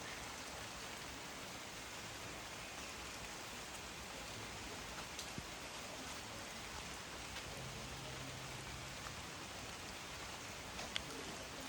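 Steady outdoor rain falls throughout, a dense even hiss of drops with no voices, heard during a break in an outdoor legs workout class.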